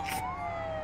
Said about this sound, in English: I'll hit him with the siren.